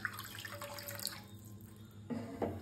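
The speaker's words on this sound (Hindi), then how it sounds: "अब इसके अंदर हम 3 से 4 ग्लास पानी डाल देंगे" Water is poured into a heated pan, a soft splashing, trickling flow that thins out midway and then surges again toward the end, fairly quiet and with no talking.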